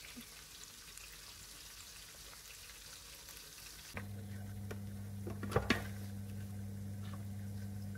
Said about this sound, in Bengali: আগে আমি হচ্ছে পেঁয়াজটা ভাজা নেই